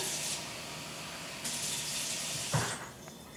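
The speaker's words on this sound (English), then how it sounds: "Tap water again." Tap water poured into a container, a soft steady running flow that brightens partway through, with a short splashy gush near the end, close by and without talking.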